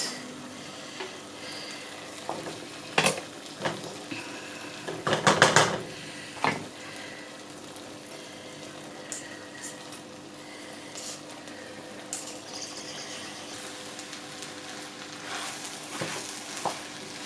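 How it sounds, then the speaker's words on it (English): Rice stirred into red sauce for Nigerian jollof rice, frying with a steady sizzle while a spoon scrapes and clanks against the pot in bursts, loudest in a brief cluster of knocks midway. "So in here goes the rice."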